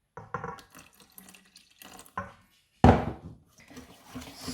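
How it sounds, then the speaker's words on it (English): Water added to flour for banana and sweet potato fritter batter gives short, close splashes and trickles in separate bursts. One louder pour stands out near the middle, with quiet gaps between and no speech. "and then we'll add some water, make a hole in the center"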